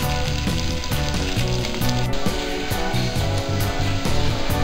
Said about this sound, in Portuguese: Deixar fritar mais um pouquinho.